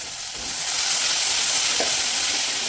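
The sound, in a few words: washed rice frying with whole spices in a pan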